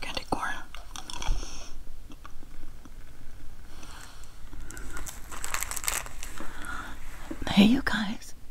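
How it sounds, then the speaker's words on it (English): Gum being chewed, extra chocolate chip mint, gives soft close-up mouth clicks and wet smacks in a quiet ASMR setting, mixed with whispering and light crinkling. "I'm chewing, by the way. Extra chocolate chip mint."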